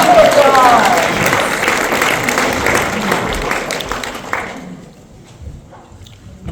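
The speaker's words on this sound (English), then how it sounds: "Give him a round of applause." An audience at an evening pledge night party claps for a speaker invited to the microphone, with steady, fairly loud applause that tapers off after a few seconds into quiet room noise.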